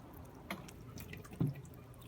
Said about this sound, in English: look at that water draining through